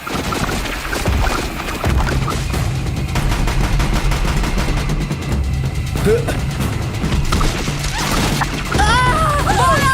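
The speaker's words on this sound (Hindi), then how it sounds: "अरे ओ नहीं, ये गन लेके आ गया।" In Horizon Zero Dawn an armed enemy opens fire, a dense barrage of rapid gunshots and impacts amid loud game effects, with a voice speaking over it.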